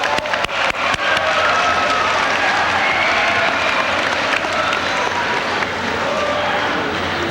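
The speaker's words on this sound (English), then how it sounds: "Let's give them a round of applause." A school audience applauds at a senior academic recognition ceremony, with dense, steady clapping from many hands that starts with a few sharp claps and fills the whole stretch at an even, fairly loud level.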